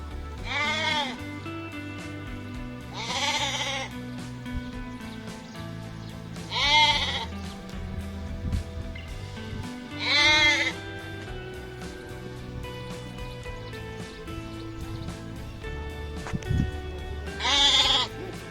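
Goats bleating in a rural herding setting, five loud wavering calls spaced a few seconds apart over steady low background noise, with no one speaking.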